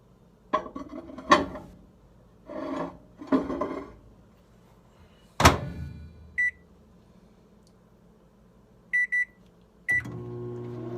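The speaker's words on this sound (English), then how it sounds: "We're going to stick it in the microwave." Microwave oven heating a cheddar bacon cheeseburger in a home kitchen: door clunks and button presses, a few short beeps, then the start of the steady hum of the running oven.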